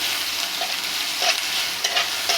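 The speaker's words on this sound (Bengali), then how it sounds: "পেঁয়াজটা একটু ভালো করে ব্রাউন কালার করে" Chopped onions frying in a pan as they brown, a dense steady sizzle with scraping stir strokes at irregular moments, close and with no talking.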